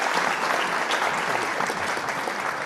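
Canned applause played from a studio tech's love button during a live online talk show, a full, even burst of crowd clapping that holds steady and thins slightly toward the end.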